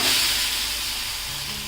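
Bajra and spring onion thalipeeth sizzles and hisses steadily in oil on a hot pan, a continuous close frying crackle with no talk.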